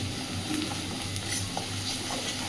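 Spice masala with ground turmeric frying and being stirred in a pan for a vegetarian dish, giving a steady close sizzle with soft stirring scrapes and no voices.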